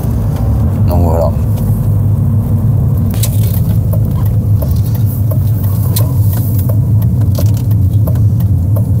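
A BMW Z3 Coupé with a 2.8-litre six-cylinder engine hums steadily while driving, a loud, constant low rumble with road noise and occasional cabin rattles, and a voice talking over it.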